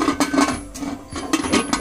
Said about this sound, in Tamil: இந்த ஸ்டேஜ்ல வந்து நம்ம குக்கரை க்ளோஸ் பண்றோம்.